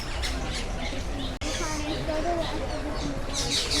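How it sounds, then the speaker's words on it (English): Birds in a zoo aviary at Animal Kingdom squawk and chirp repeatedly, a dense, busy chorus of calls close by with a faint voice underneath. "Here's some 360 video of the aviary. So scroll around and see all the birds flying around."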